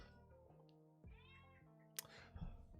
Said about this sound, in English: my cat's being fucking annoying right now